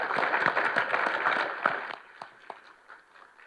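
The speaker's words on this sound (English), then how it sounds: "Let's give them all a round of applause." Clapping from an audience at a county economic outlook gathering thanks the sponsors. It is moderate and steady at first, then thins to a few scattered claps.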